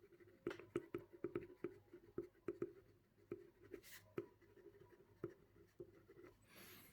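Writing during a lecture, a faint, close series of quick tapping and scratching strokes in uneven bursts, with short pauses between words and no speech.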